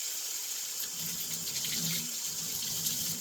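Water runs steadily from a tap into a sink during curly natural hair detangling, a continuous close hiss and splash with no talk.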